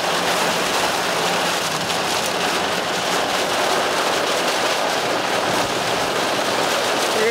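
Heavy rain pouring in Jakarta near a highway, a dense, steady hiss of drops striking surfaces that stays loud and even throughout, without any voices.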